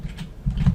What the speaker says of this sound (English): So I'm going to go up to the search bar and we are going to type in